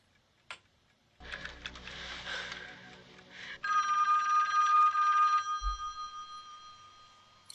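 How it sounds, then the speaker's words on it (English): A telephone rings in the 1984 film A Nightmare on Elm Street, a bright electronic trill that follows rattling and clunks, then fades out with a soft thud near the end. "Glenn, answer the phone."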